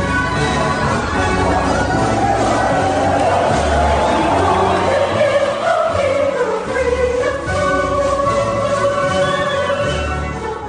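A crowd of followers welcomes Jesus into Jerusalem with palm branches in an audio drama, a loud, continuous swell of many voices cheering and murmuring together.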